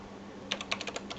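Keys clack on a computer keyboard as a username is typed at a Windows login screen: about nine quick, close taps in a short irregular burst after a moment of quiet, with no voices.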